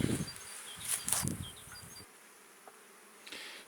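Honeybees buzz steadily as a hive is opened during spring colony development, a close, dense hum with individual insects droning past at moments and the swarm easing quieter toward the end.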